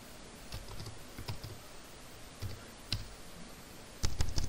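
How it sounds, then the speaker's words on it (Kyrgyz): Quiet, close computer keyboard typing, scattered clicky keystrokes spelling out a web address, ending with a firmer cluster of key presses as Enter is hit. "canva.com деп жазып Enter клавишасын басабыз."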